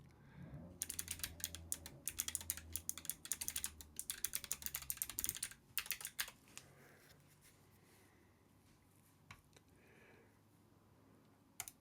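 Rapid clattering keystrokes on a computer keyboard, dense bursts for about six seconds, then a few scattered taps over quiet background hum.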